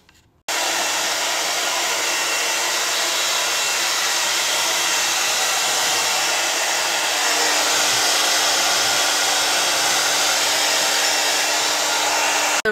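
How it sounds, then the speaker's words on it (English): A hair dryer blows hair dry in a steady, loud whir that starts abruptly and runs unbroken for over ten seconds, with a faint hum beneath the airy rush and no talking. "I will blow dry next."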